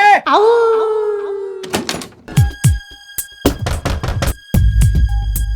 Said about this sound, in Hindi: दरवाजा खटखटाओ, दरवाजा खटखटाओ, खटका दे।